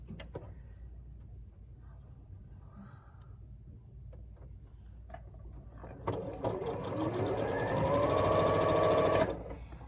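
A sewing machine stitches quilt block fabric for a sawtooth star, starting after a quiet stretch and running steadily for a few seconds, close and fairly loud, then stopping.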